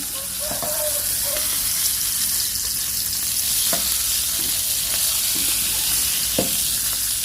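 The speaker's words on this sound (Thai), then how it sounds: "เดี๋ยวเราก็จะทอดปลาทู เค็มให้ ตัวเขากรอบๆนิดนึงนะครับ" Salted mackerel fries gently in oil over low heat, with a steady close sizzle and occasional crackles and pops, without speech.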